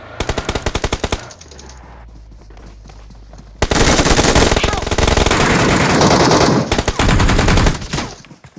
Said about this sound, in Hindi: गोली गोली गोली